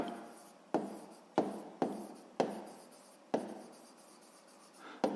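Pen writing an answer by hand on paper during a sixth-grade maths exercise: a run of distinct scratchy strokes, each starting sharply and trailing off, close and fairly quiet, with no talking.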